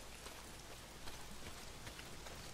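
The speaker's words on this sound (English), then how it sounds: "not if it's pissing down rain" Steady rain falls in a video game, a faint, continuous hiss of drops on surfaces with no voices over it.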